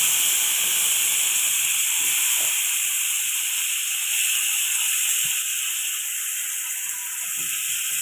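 Tomatoes sizzle in a hot pan for peanut chutney, a steady loud hiss with steam running throughout, broken by a few faint clinks and soft knocks.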